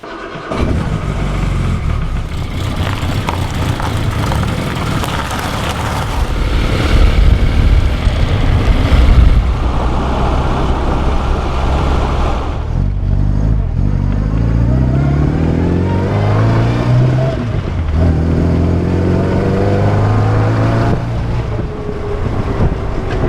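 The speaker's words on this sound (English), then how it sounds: "Driving around in the Midget, we noticed that if you change the engine speed rapidly" An MG Midget sports car engine idles and revs up and down repeatedly, loud and close, with a rising and falling whine throughout from a fan belt problem.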